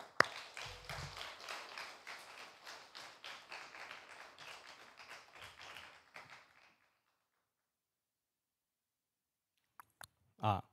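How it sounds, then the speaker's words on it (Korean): A church congregation at a Sunday service applauds in welcome, a dense burst of many hands clapping for about six seconds before fading to silence, followed by a couple of faint knocks. "우리 나오실 때 우리 환영의 박수를 하도록 하겠습니다."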